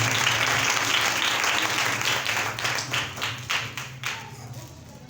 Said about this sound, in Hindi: तालियां खुदावंद के लिए बजाएं।